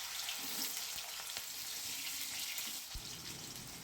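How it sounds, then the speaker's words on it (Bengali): Potato pieces fry in hot white oil in a wok for a Bengali cabbage dish, giving a steady, broad hiss with a few small pops and clinks, close and moderately loud, with no voices. "এবার এই আলুগুলোকে আমি তেলে ভেজে নেব"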